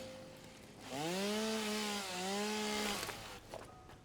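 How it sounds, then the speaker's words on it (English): A chainsaw cuts through a tree in the factory-building game Satisfactory, its motor revving up into a loud, steady whine for about two seconds, dipping briefly mid-cut, then winding down alone. "Chainsaw this tree."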